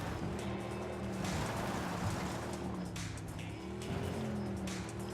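A vehicle in the video game Ghost Recon Wildlands drives at speed, its engine droning continuously with shifting pitch and rising strain, loud and close, with no talking.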